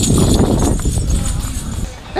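A donkey trots quickly toward people, its hooves clip-clopping close and loud for a couple of seconds under excited voices.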